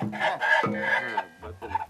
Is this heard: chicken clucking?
yes